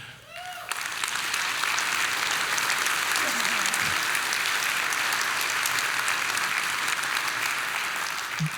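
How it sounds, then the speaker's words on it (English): Sustained applause from a county audience honoring a retiring Smith County judge after 40 years of service, steady dense clapping filling the room from start to end at an even level. "we're going to give you a special applause"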